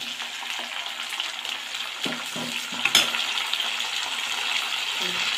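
Green chillies and tomato sauté in oil for a spicy Chettinad crab curry, giving a soft continuous sizzle with occasional stirring scrapes and a single clink of a utensil near the middle.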